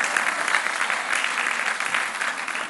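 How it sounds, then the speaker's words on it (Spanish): Crowd applause at a presidential event in Oaxaca about Banco del Bienestar branches, honoring commercial banks; a sustained, even roar of many hands clapping, fairly distant and uniform. "un aplauso también a esos bancos, a la banca comercial"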